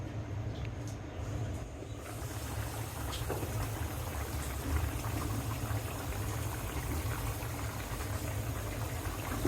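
Desi chicken jhol with large potatoes simmers in a covered pot, making a continuous, dense bubbling boil that stays even and close throughout.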